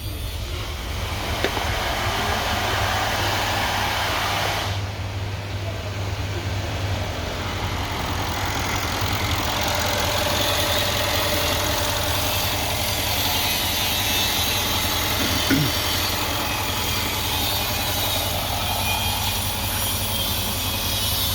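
A 2017 Mercedes GLE 63 with 65,000 km, suspected of oil in the exhaust, idles with a steady, continuous low drone that holds fairly loud and unbroken throughout, with no talk over it.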